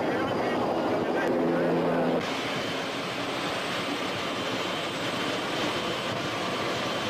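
A helicopter carrying a political campaigner over the crowded neighbourhoods of Caracas roars with a loud, continuous broadband rumble, while a voice talks over the engine noise.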